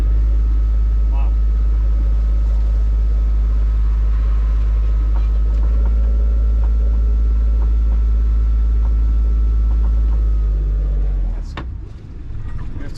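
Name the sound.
motorboat with Brunto propeller running under throttle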